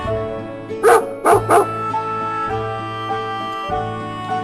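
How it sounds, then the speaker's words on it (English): A dog barks three times in quick succession, loud and close, the short yappy woofs sitting over a steady musical backing track in a children's alphabet song. "D for dog."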